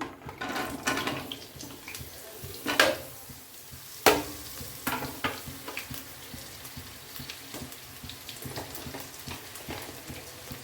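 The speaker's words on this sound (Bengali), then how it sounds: "এই তেলে পটলটা দিয়ে দিলাম" Pointed gourd drops into hot oil and fries in a loud spattering sizzle, with several sharp bursts and pops early on that settle into a steady crackle. No one speaks over it.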